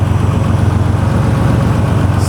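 A Porsche 964 Turbo's stock air-cooled engine idles through an aftermarket exhaust, a loud, close, steady low rumble with an even pulsing throb.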